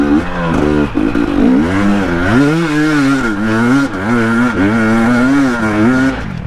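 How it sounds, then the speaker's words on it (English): A dirt bike engine revs hard during an extreme hill climb, loud and close, its pitch rising and falling as the rider slips the clutch and feeds throttle, with a single excited shout over the roar. "Just slipping the clutch, more throttle."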